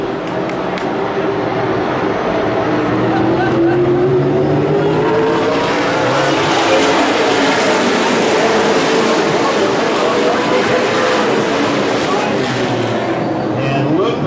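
Super late model race cars roar around Evergreen Speedway in one continuous, loud blend of engines as the pack runs close together. The sound swells and fades slightly as the cars pass, with a commentator talking over it.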